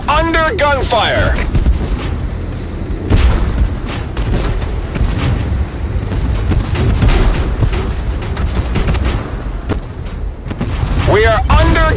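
Gunfire and heavy booms from the tank battle game Tank Force fill the scene in a dense, continuous barrage of blasts, with a voice shouting over the combat at the start and again near the end.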